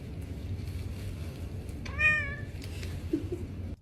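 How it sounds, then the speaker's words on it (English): A house cat lets out one clear, drawn-out meow over a steady low hum, moderately close, with a faint rustle and click afterward. "and here's my cat"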